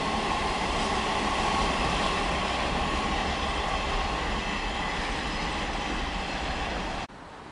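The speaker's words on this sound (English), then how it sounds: "Approaching now, we'll have a terminating LNER service from London King's Cross." An LNER train from London King's Cross, a terminating service, arrives at Lincoln with a steady, loud rumble of wheels on rail. It keeps up without a break before cutting off abruptly near the end.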